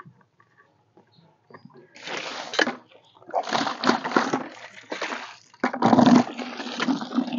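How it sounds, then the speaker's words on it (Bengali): Tap water drawn and poured into a container, irregular splashing and sloshing bursts at close range, with quiet gaps between pours. "কলের পানি ছেড়ে দিতে হবে, সেহেতু একটু পানি উঠিয়ে রাখি"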